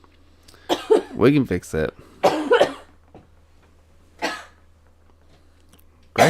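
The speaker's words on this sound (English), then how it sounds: "You know I've been coughing." A person coughs and clears their throat in short harsh bursts, a few close coughs scattered between spoken words, with a low steady hum underneath.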